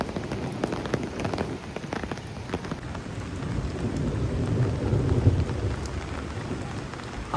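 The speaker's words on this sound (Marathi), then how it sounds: "ढगांचे आवाज नुसते धडामधुडूम होत आहे." A dense rain shower hisses and patters without pause at Kondeshwar temple in Badlapur, while low thunder rumbles and rolls underneath, swelling to a deeper, heavier growl in the second half.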